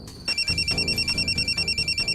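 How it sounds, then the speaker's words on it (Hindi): A phone rings with an incoming call, a steady repeating electronic ringtone pulsing in quick even bursts, loud and close, with no talk over it. "गणेश का ही फोन आ रहा है।"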